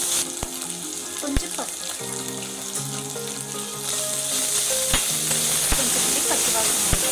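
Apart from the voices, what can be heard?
onion, ginger-garlic paste and curry leaves frying in a pan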